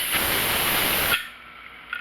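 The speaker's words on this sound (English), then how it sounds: "I've had that steam coming out of there for about 10 minutes now, and so the steam is built up inside there" Steam hisses steadily and loudly from the vent of a pressure canner being used to can chicken, broth and chili. After about a second the hiss cuts off sharply, leaving a quiet background.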